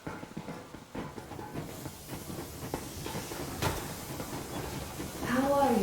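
The Yermak steam train in the video game Metro Exodus rumbles and clanks along with hissing steam and rhythmic rattling, a steady mechanical rolling noise that builds toward the end, with a faint voice underneath.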